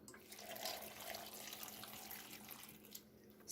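Water poured into a pot of moong dal with tomatoes, pumpkin, eggplant, turmeric and salt makes a soft, continuous splashing pour, faint and close.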